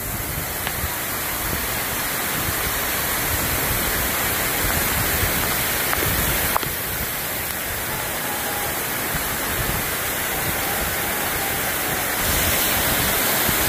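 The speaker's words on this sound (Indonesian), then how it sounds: "inilah keindahan air terjun Madakaripura ya" Madakaripura waterfall pours down in heavy rain, a dense, steady roar of falling and splashing water filling the whole scene at constant loudness.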